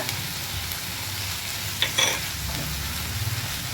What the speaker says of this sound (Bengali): এটা দিয়েও আমি একটু নাড়াচাড়া করে দিচ্ছি